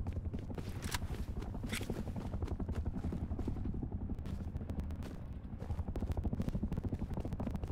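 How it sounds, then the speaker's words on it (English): A helicopter approaches in the survival game Rust, its rotor thumping in a fast, steady pulse that runs the whole time, fairly loud, with a few sharp clicks over it. "Oh, here comes that chopper."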